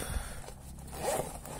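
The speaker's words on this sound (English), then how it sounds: "you have this zipper underneath" Zipper on a travel bag being pulled shut: one quick, close, quiet ripping rasp over under two seconds, with faint handling noise around it.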